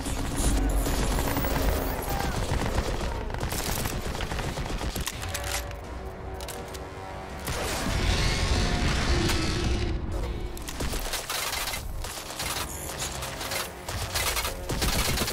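Heavy gunfire in the first-person shooter Crysis 2, loud sustained bursts of automatic fire mixed with booms, briefly easing before resuming, with in-game voices shouting at times.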